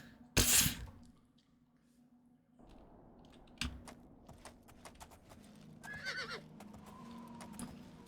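A horse in the game Oblivion gives a loud whinny, then hooves clop irregularly at close range alongside faint clicking, with a second softer neigh later; no speech is heard.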